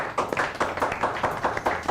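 Audience clapping at the AFRIMOD 2023 award ceremony on a TV studio set: a modest, fairly even patter of claps from a small group, heard alone and at moderate distance.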